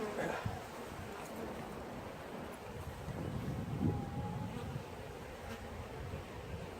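Honey bees at a top bar hive in July hum as a faint, diffuse buzzing drone under outdoor wind noise, steady throughout with no clear speech.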